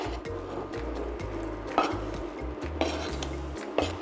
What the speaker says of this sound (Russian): Выкладываем яблоки в сковороду,